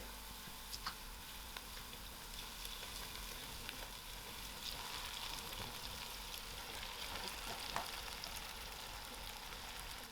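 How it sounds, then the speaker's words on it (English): Marinated jackfruit frying in hot oil for a Diwali jackfruit biryani, a faint, continuous sizzle with scattered soft ticks and pops, heard alone without talk. "So I'm going to add in my jackfruit into the oil."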